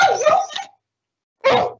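A dog barks during an online video meeting, one burst of yaps followed by a pause and then a second short bark, close and fairly loud.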